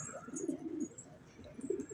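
Domestic pigeons coo softly inside a newly built coop, low throaty calls repeating in loose bursts with faint higher chirps behind them, fairly close and unaccompanied by talk.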